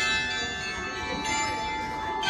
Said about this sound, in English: there's some bells over here. That's making that noise.